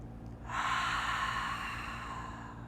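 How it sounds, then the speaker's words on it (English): A single deep cleansing breath during a yoga session, a soft, airy exhale rising after a brief pause and trailing off gently, close and quiet. "cleansing breath."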